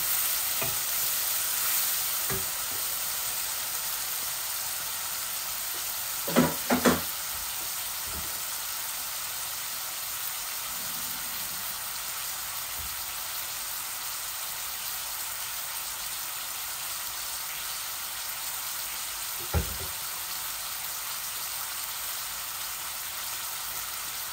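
Chili and spices fry with onions in a hot pan after a splash of hot water, giving a steady loud sizzle throughout, with a few sharp clinks of a stirring spoon against the pan.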